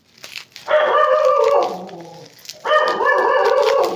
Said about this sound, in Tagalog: talagang ano, nag-iingay ang aking mga aso.